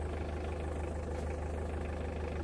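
A car engine ticks over at idle, a constant low rumble with a steady hum and no voices throughout.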